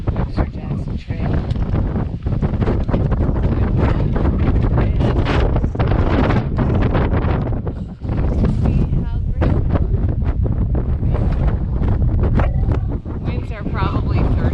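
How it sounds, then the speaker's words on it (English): Strong wind buffets the microphone on a mountain trail near the summit of Mount Jackson, a loud, continuous roaring rush with gusty surges throughout, and a voice talks underneath it. "Winds are probably 30, 35 miles an hour, maybe. I don't know. It's windy."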